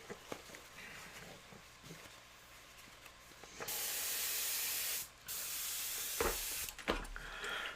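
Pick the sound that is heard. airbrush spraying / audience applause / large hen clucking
airbrush spraying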